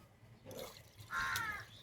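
Water splashes and gurgles briefly, poured into a cooking pot for sambar at close range, quiet and short.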